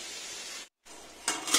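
Koftas frying in hot oil give a steady, close sizzling hiss that breaks off for a moment, then returns louder and brighter near the end.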